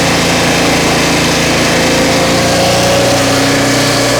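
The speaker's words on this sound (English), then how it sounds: "If the RPM slows down, it means your blade is getting warm." A Turbosawmill engine runs steadily while its blade cuts through wood, a loud continuous drone with a sustained hum throughout and no pauses.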